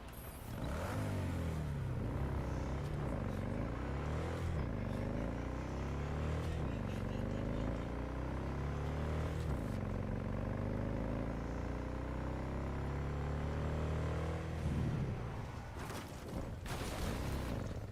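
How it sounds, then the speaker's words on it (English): Motorcycle ridden through city streets in the video game Cyberpunk 2077, its engine droning steadily with repeated rising and falling revs as it shifts and accelerates, loud and continuous, ending in a burst of clatter. "it's better to just ride a motorcycle in the city"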